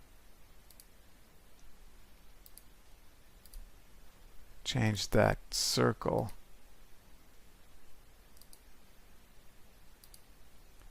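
Faint computer mouse clicks tick at spaced intervals while someone edits a chart in SPSS statistics software, with a short spoken phrase in the middle.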